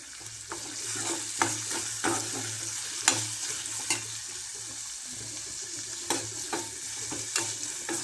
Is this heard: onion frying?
yes